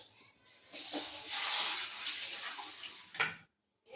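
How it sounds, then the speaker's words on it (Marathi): Lentils (dal) being washed by hand in about two bowls of water, with soft close swishing and splashing that swells in the middle and ends in a brief splash before quiet. "डाळ पण छान धुवून घेते"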